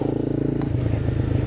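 A Honda CBR 250 motorcycle engine hums steadily while riding, then the pitch shifts lower partway through amid wind rumble, close and fairly loud with no talking.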